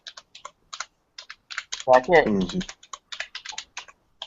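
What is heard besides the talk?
typing on a computer keyboard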